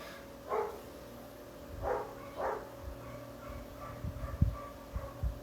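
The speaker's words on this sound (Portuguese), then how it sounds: "Que agora o vizinho martela e os cachorros latem." Dogs barking in short bursts at intervals, fairly distant, then sharp knocks of a neighbor hammering a wall near the end, over a steady background hum.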